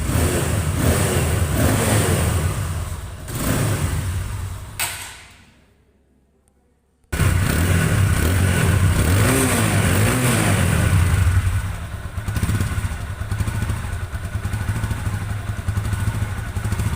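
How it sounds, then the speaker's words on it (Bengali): A black 2025 TVS Apache motorcycle with ABS, in new condition, revs loudly and steadily up close, with a sudden cutout to near silence mid-way before the engine roar resumes and holds. "বাইকটির সাউন্ড কোয়ালিটি কিন্তু খুবই ভালো আছে"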